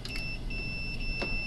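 Continuity tester on a dryer timer switch sounding a steady high electronic tone once the contacts close, a continuous beep holding through the moment alone.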